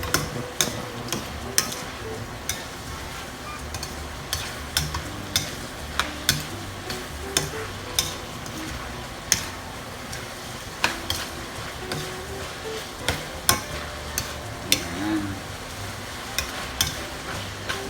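Ground pork and beef sautéing in its own oil for Filipino-style spaghetti sauce, a soft background sizzle punctuated by frequent sharp clicks and scrapes of a utensil stirring against the pan, with no talking.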